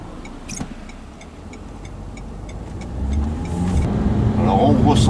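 Renault Scenic speeding up in sport driving mode, its engine and road noise building steadily over a few seconds, with a brief clunk early on and a rising drone toward the end; no one speaks.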